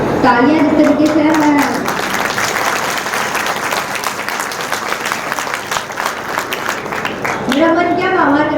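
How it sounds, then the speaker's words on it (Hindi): Applause from an audience at a Hindi kavi sammelan poetry gathering in Unnao as a song ends, a steady wash of clapping that swells in the middle while a voice talks at the start and end. "गीत की समाप्ति की तालियां जिस तरीके से है"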